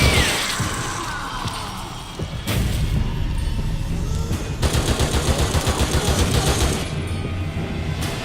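Rapid gunfire from the video game The Evil Within 2 rattles in loud bursts, a dense automatic stream of shots mixed with in-game effects and a few heavier booms.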